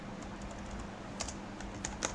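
Rapid typing of C++ code on a computer keyboard, a quiet steady run of light key clicks with a few sharper, louder taps near the end, no voices.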